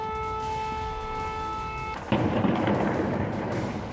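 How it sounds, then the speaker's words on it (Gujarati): An air raid siren wails steadily over distant rumbling during a Russian attack on Kyiv, then cuts off as a loud broadband roar of noise takes over for the rest of the clip. "આખી રાત સાયરન અને બોમ્બ ધડાકાના અવાજથી કીવ કાંપી ઉઠ્યું"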